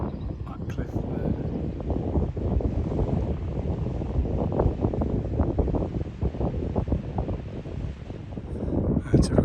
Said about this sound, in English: Typical wind starting now, trying to film it